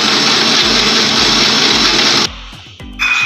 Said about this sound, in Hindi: अभी हम ब्लाइंड करेंगे।